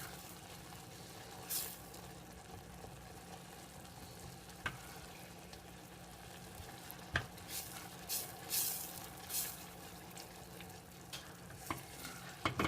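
Butter with garlic and onion stirred steadily in a pan, a soft continuous sizzle under occasional scraping clicks and spoon taps against the metal, close and fairly quiet throughout.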